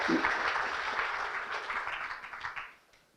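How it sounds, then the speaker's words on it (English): Audience applause at a university integration forum, a steady broad wash of clapping from a crowd that holds for nearly three seconds, then thins out and fades away. "Give Alicia a round of applause."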